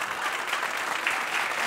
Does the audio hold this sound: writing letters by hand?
no